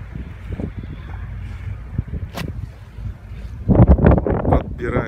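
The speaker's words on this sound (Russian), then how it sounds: "Лодка-спутник Донни." The tender boat of the Dream Catcher 2 dive yacht moves across the water, a low rumbling wash with wind buffeting the microphone, growing louder and splashier toward the end while a voice speaks briefly.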